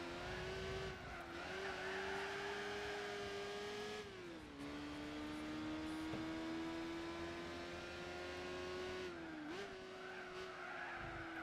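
A race car in Gran Turismo 4 runs over a tall rumble strip on the Opera Paris circuit, with a loud, steady engine drone that wavers and dips as the car rolls across the strip.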